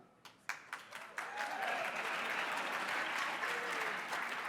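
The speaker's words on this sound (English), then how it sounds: "I got a clap from backstage" At an awards ceremony, a few distinct claps start out near the stage and then grow into steady, sustained audience applause that fills the hall at a moderate, even level.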